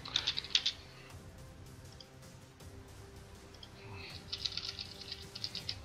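Bursts of keyboard typing during a live French esports tournament commentary: a quick cluster of clicks at the start, a quiet stretch, then a longer run of keystrokes near the end, faint and close.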